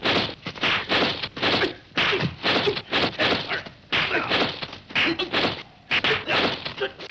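Rapid kung fu movie hit sound effects crack in quick clattering bursts, a dense irregular series of sharp impacts that sounds much like typewriter keys striking, loud and close.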